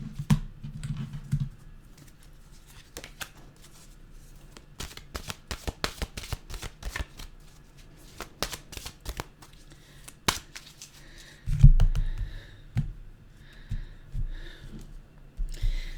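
Deck of mantra cards being shuffled by hand, a run of quick crisp riffling clicks and flutters, close and fairly quiet, with a few soft handling bumps and no talking.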